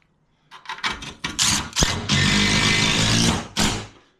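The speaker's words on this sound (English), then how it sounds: "you can always hear the drill grab that stud" A power drill drives a screw into a wooden wall stud while a wall hanger is installed, with several short bursts and then a sustained close, loud whir as the screw bites, ending in a final brief burst.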